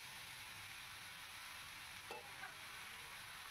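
A bottle gourd, mung dal and potato curry is stirred in a pan, giving a faint, steady sizzle with a couple of soft scrapes of the spoon.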